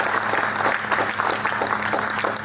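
Audience applause for poets at a Hindi comedy poetry gathering, a steady, fairly loud round of many hands clapping for a couple of seconds with no talking.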